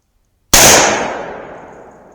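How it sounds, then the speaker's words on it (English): A single sharp, loud gunshot from a Colt Trooper .357 Magnum revolver with a 4-inch barrel, ringing out in a long fading tail; only one report rather than two. "I'll do the Colt Trooper first, 2 shots"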